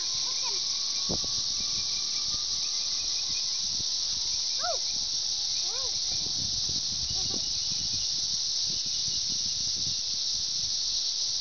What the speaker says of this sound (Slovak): Tu máme dve cikády na strome.